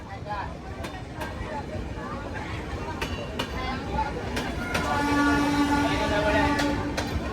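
Kurnool City to Guntakal DEMU train, 77204, running just after leaving Dhone Junction: a steady onboard rumble and rattle with periodic clicks, growing louder near the end with a sustained tonal whine.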